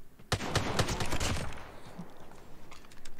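Rapid automatic gunfire in a Call of Duty-style multiplayer shooter, a loud close burst of rattling shots for about a second, then quieter scattered distant shots.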